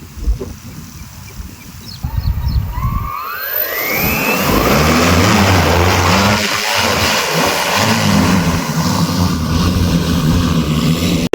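An agricultural spraying drone, freshly fitted with a battery in a crop field, starts up with a rising whine that settles into a loud, steady motor drone.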